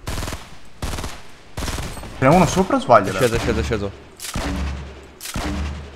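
Gunfire in a Fortnite duo match: repeated bursts of shots hit throughout, loud and punchy, mixed in with excited Italian talk from the players.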